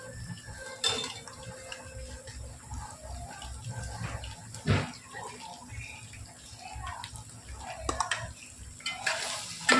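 Chicken being stirred in a pan while cooking gongura chicken: scattered scraping and wet clinking of a spoon against the pan over a low simmering sizzle, with a voice speaking intermittently underneath.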